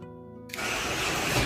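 A 1:32 scale slot car on a baseboard track is pushed to full throttle, its small electric motor hum cutting in abruptly to a loud, steady high-pitched whir close by.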